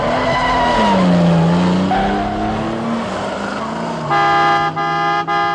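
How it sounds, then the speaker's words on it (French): A 2015 Ford Mustang GT revs and skids, with tires squealing in long wavering tones over a loud engine, then a sustained horn-like tone near the end, close and loud. "c'est la Mustang"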